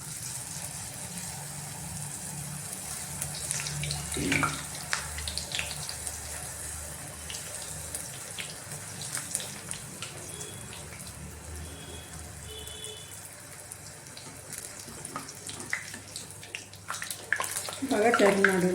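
Puris being slipped one at a time into hot oil on a stove, giving a steady bubbling sizzle with intermittent splashes and a voice speaking over it.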